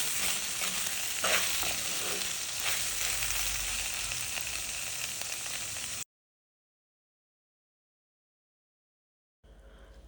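Ivy gourd (kovakka) stir-fry in an open pan gives a steady sizzle with soft stirring scrapes for several seconds, then cuts to silence before faint noise returns briefly at the end; no talking.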